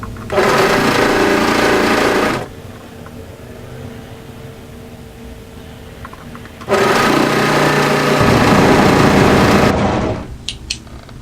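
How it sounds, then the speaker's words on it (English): Overlocker stitching a rib cuff seam on drop-crotch joggers, running in two loud sustained bursts of about two seconds and three seconds, with a quiet pause between and small clicks at the end. "And then overlock through to the cuff position on the other side."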